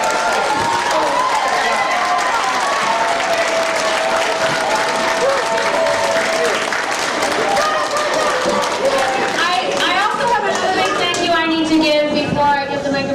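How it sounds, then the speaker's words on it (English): An audience applauds child actors after a school Shakespeare performance, sustained dense clapping filling the room throughout, with a voice speaking over it near the end. "Let's have one more round of applause for our actors today"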